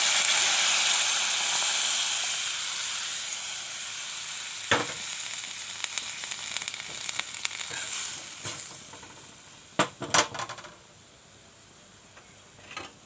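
Hot water poured into a sizzling pan of homemade spice mix for a fish curry: a strong hiss that fades to a quieter simmer, with sharp scraping and stirring clatters near the end.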